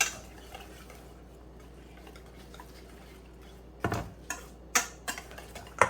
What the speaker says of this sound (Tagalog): Tapos, haluin natin. Mix natin.